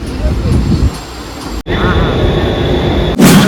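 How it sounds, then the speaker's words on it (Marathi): A passenger train heading to Karjat rumbles and rattles continuously from inside the carriage, loud and steady, with a brief dropout partway through. "मित्रांनो अशा प्रकारे आपण ट्रेनमध्ये बसलेलो आहे आणि आपण चाललेलो आहे कर्जतला"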